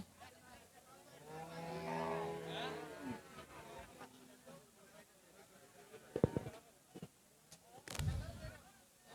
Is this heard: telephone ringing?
no